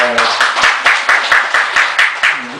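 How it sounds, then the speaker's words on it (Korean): Rhythmic unison clapping from an audience at a Buddhist temple gathering, about a dozen sharp, evenly spaced claps over a few seconds, fairly loud and close, with a voice briefly audible at the start and end. "박수 보내주세요"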